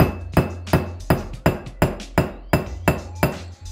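Parts are pounded into place with a hammer during a budget big brake upgrade assembly on a junkyard 5.3 build, giving about ten sharp, evenly spaced metallic strikes close up with no talking.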